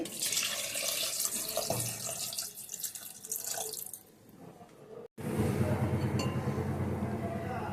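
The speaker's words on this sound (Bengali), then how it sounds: "এবার জল দিয়ে দেবো" Water is poured in a steady rushing stream into a clay pot for cooking khichuri, continuing for several seconds after a brief pause, with a few faint clinks.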